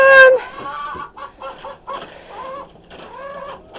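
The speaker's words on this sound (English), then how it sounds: "7 chickens and 2 ducks." Several chickens cluck close by in short, uneven bursts as they leave a coop with ducks, with a brief rooster-like call at the start.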